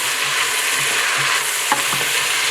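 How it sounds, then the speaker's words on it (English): Vegetables for ratatouille, including peppers and onions, sizzle steadily in a frying pan as they are stirred, with a few soft scraping knocks from the utensil near the end. "Stir that a little bit more."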